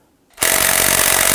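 A power tool starts abruptly and rattles steadily as it runs a bolt into the engine torque strut mount of a 2008–2011 Ford Focus, loud and close.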